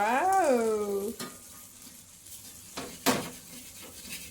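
Omelette batter fries in oil on a hot roti griddle. A short vocal sound opens the clip, then soft intermittent sizzling follows with a few sharper crackling bursts.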